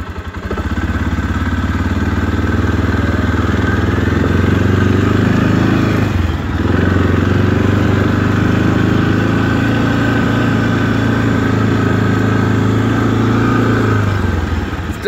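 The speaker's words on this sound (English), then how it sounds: "Still not warm yet, so I'll let it warm up a little bit before I, like, rip it around the driveway a little bit" A 2018 Arctic Cat Alterra 700XT ATV engine idles steadily while warming up, a close, even low rumble with faint clatter that holds constant for the whole stretch, with one brief dip midway.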